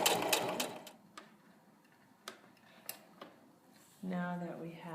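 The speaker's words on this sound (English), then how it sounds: "I'm going to sew another 1/4 inch seam allowance." A sewing machine stitches a quarter-inch quilt seam in short whirring bursts, with light clicks and handling between them and a person talking.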